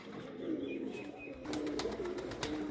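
Golden pigeon cooing softly nearby in a few repeated low calls, faint against quiet surroundings with no talking.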